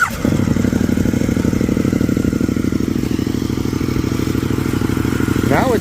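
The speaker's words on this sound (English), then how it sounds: "Now it sounds pretty much at the same level as the other bike, but has a fiercer sound to it." A motorcycle fitted with a cheap universal eBay exhaust holding two dB killers runs loud and close at a fast, steady rumble with a slight rise near the end, and no one speaks over it.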